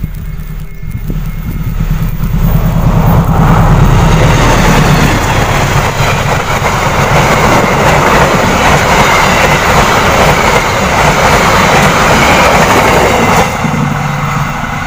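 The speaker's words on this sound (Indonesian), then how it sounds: "tadi menggunakan lokomotif CC206 Depo Induk Cipinang ya" A CC206 diesel locomotive from the Cipinang depot hauls a train past at speed on the southern line in East Priangan. The passage is loud and close, with a sustained roar and rhythmic clatter of wheels on rails lasting about fifteen seconds.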